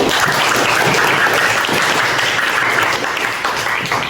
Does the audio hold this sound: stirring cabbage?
no